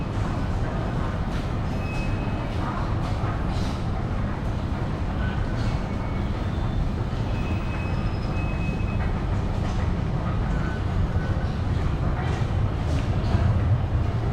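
Steady rumbling of a subway train in motion in Guangzhou, China, a constant low roar with faint high squeals and rattles, continuous throughout with no voices.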